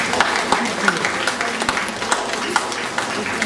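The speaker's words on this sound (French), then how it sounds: "On peut l'applaudir." Audience applause at a jury prize-giving for an art exhibition in a cinema in Aulnay-sous-Bois: a steady wash of many hands clapping with crisp individual claps standing out, mixed with voices talking over it.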